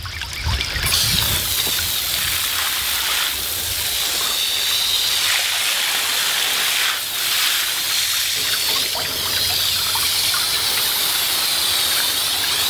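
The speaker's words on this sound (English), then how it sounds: "I'm going to just hose down some of these boulders, get the dirt off them" A garden hose sprays water over boulders to wash dirt off them outdoors, a steady close hiss of spray that runs unbroken for the whole stretch with slight shifts as the stream moves across the stones.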